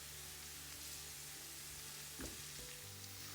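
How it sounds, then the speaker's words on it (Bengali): Steady soft sizzling of garlic frying in oil to golden brown for naga chilli pickle, with a faint clatter near the middle and a low hum underneath. "যে কোনো আচার করতে হলে ভালো মতো রসুনটাকে আগে ভেজে নিতে হয়"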